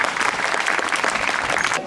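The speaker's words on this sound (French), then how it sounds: "je pense qu'on peut l'applaudir parce qu'elle le fait très bien, Nora" Lively crowd applause at a zoo sea lion show, a dense continuous burst of clapping from the audience, close and loud throughout the short stretch.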